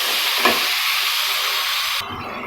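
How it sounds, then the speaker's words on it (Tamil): Tomatoes sautéed in a pan for chicken gravy hiss with a broad steady sizzle and one brief stir scrape near the start. The sound drops abruptly to a quieter hiss near the end. "ஃபுல் தக்காளி எல்லாம் நல்லா பேஸ்ட் ஆகிற மாதிரி வதக்கிடணும்."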